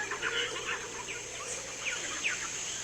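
Bird calls on a Peruvian rainforest river, scattered chirps and clucking calls over a steady hiss of ambient background, fairly faint and distant.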